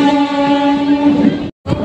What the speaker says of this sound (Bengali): ব্যান্ডেল জাংশন থেকে ট্রেনটা ছাড়লো আমাদের মাতারা এক্সপ্রেস